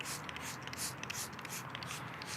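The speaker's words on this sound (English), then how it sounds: "we're gonna spray a nice coat all throughout the floor mat" Repeated hissing bursts of a spray bottle, several quick pumps in a row misting cleaner close up onto a rubber floor mat.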